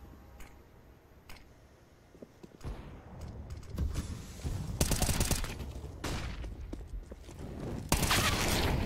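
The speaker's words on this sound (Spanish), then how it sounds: "Pero la segunda bala de Nico no impacta" Rapid bursts of game gunfire crack out in several volleys, growing louder and denser toward the end, with clicks and mechanical noises between them.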